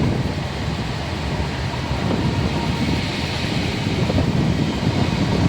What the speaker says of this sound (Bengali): কত সুন্দর ট্রেন যাচ্ছে দেখো।